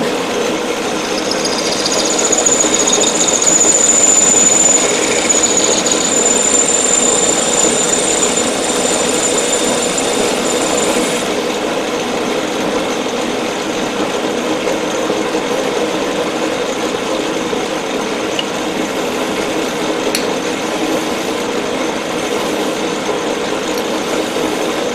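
Pantograph machine slicing a metal collar, a loud continuous motor drone with a high cutting whine for the first ten seconds, then a steady running hum for the remainder.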